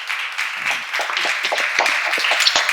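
A church congregation claps together at a seminar, giving a few seconds of continuous, fairly close applause.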